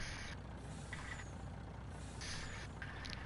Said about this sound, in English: Gotta work the brakes a little bit here